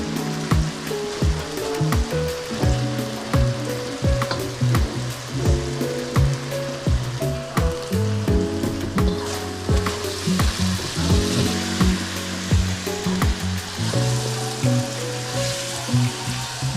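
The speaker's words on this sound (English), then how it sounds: "One thing about prawns, they don't take long to cook." Prawns frying in a hot pan give a continuous loud sizzle and crackle, with steady background music playing over it and no talking.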